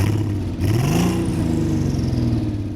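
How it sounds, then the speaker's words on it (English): A large W12 twelve-cylinder Bentley engine fitted in a VW Golf GTI, idling and blipping, a deep steady rumble that swells briefly as it revs, close by with no talk. "you just heard the first soundbite from the 12-cylinder engine"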